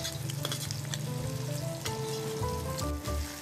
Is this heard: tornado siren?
no